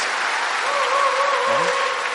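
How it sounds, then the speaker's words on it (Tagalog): The audience at a televised healing Mass applauds in a steady, full wash of clapping, with a brief voice rising faintly beneath it. "Pumalakpak ang mga naniniwalang sila ay pagpapalain ng Diyos."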